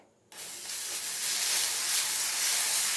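Dosa batter hits a hot stone griddle with a sudden, loud, steady hiss that holds strong and continuous after a brief quiet start.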